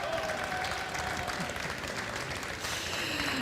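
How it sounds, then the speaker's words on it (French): Applause fills a hall at an agriculture conference, a steady, continuous clatter of many hands from the crowd, moderately loud and unbroken for the whole stretch. "Je pense qu'on peut vous applaudir parce que c'était vraiment très très clair."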